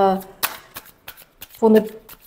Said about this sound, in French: je vais mélanger les cartes avant